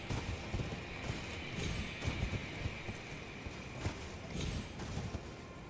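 Horse hooves clop in uneven bursts as a mount scrambles up steep ground in Elden Ring, set against a constant ambient wash and a few brighter accents.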